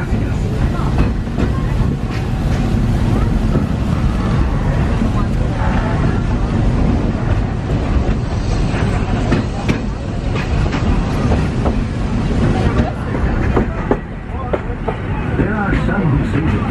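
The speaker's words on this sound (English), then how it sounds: "this steam train is a little old-fashioned" A loud, continuous rumble and rattle of a steam train ride on the Walt Disney World Railroad, with rhythmic clatter from the wheels and wind noise, and people talking faintly underneath.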